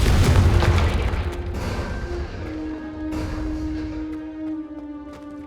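A Confringo fire spell goes off in Hogwarts Legacy with a heavy booming blast up front, then a decaying magical shimmer and ringing tones that fade over several seconds.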